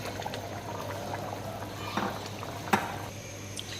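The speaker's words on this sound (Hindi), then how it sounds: "अब हम इसके अंदर अपने राइस जो हैं वो ऐड कर देंगे।" Rice for tahari is poured into a cooking pot in a few quick rushing bursts over a faint background simmer, close and moderately loud against a low steady hum.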